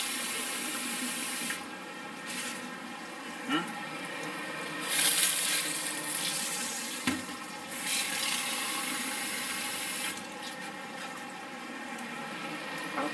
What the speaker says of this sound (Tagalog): pwede naman kumuha ng tubig dito sa sink kasi malinis naman yan